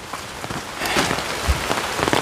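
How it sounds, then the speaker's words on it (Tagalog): Rain falls steadily in a mountain forest, a dense patter of drops hitting leaves and surfaces nearby, continuous with no talking. "kaya umuulan po mga kabayan"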